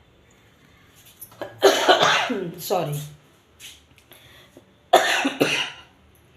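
A woman coughs several times in harsh, throaty bursts, close up, with a brief spoken word between the coughs.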